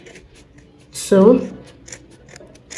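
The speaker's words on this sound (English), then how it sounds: "Then move to the other color and start cutting it." Scissors snipping through yarn while making a heart pompom keychain, a short crisp burst of cutting near the mic with a voice speaking briefly around it.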